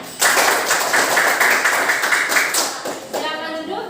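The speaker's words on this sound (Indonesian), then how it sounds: "Beri tepuk tangan untuk kelompok 3." Classroom applause for a student group, a burst of dense clapping from the class starting abruptly and continuing loudly before trailing off, with a voice near the end.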